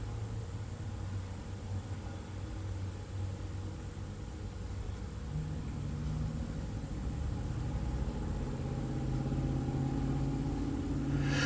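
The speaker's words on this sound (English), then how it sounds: "just ambient noise, maybe some traffic passing by" Outdoor ambient noise beside an RV, a steady broadband hiss and low rumble of passing traffic that swells slightly toward the end, with no talking.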